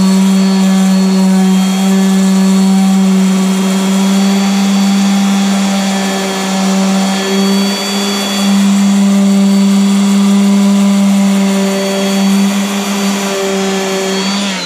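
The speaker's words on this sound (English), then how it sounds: "now I'm sanding it with 120 grit sandpaper on a random orbital sander" Loud, steady whirring drone of a random orbital sander with 120 grit sandpaper running continuously on a painted school bus, with a strong even hum and little change in pitch.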